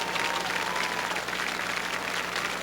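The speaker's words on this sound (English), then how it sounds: "Jackson will get a nice hand from the crowd here at Shaw Park as he goes back to the dugout" A crowd at Shaw Park, a minor-league baseball ballpark, applauds steadily as a pitcher leaves the game for the dugout, a broad even wash of clapping that holds at the same level throughout.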